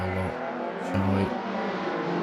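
BMW Compact race cars lapping Oulton Park in a circuit race, engines droning steadily with rising and falling revs as the cars pass close by, loud and continuous, with no voices.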